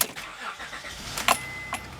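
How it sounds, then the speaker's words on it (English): A 2002 Acura MDX idles while warming up before an oil change, a low steady engine hum underneath a few sharp clicks and knocks nearby. "So just let the car run for a few minutes and it'll warm right up."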